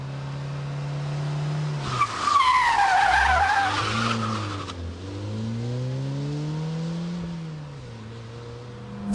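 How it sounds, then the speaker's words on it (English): A Ford Puma performs a front-wheel-drive handbrake turn, its engine droning loudly as the tyres skid and squeal for a couple of seconds mid-turn, then the revs rise and fall as it powers away. "the handbrake turn"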